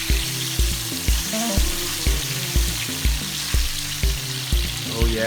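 Fish sizzling and frying loudly in hot oil, a steady crackling hiss with repeated low bubbling pops recurring about every half second, close and continuous with no voices.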